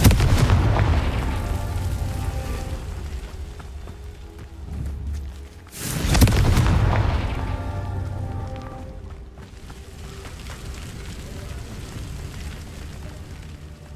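Two heavy blasts from the Confringo spell in Hogwarts Legacy, one at the start and one midway, each a loud boom that fades into a crackling, rain-like tail.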